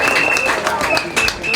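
Speedway crowd clapping to greet a rider at an Isle of Wight versus Belle Vue National League meeting, a steady wash of applause with a few louder bursts, heard at a distance behind a whistle-like tone.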